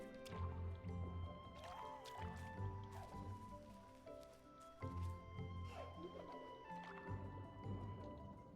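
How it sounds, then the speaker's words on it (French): Water filling up and dripping in Ori and the Blind Forest, a steady liquid gurgle and drip over a sustained musical game background, continuous and fairly quiet throughout. "c'est ça, là, ça se remplit d'eau"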